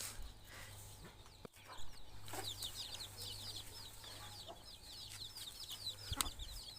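Native chickens kept in a cage, a hen with young chicks, cluck in quick repeated bursts close by, with soft peeping and a faint low hum in the background and no talk.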